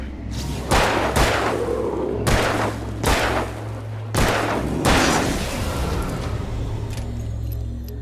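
Gunshots in the video game Alan Wake: four heavy, booming shots at roughly one-second intervals over a steady low game drone, each with a short decaying tail, close and loud.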